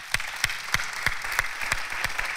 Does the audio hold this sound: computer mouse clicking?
no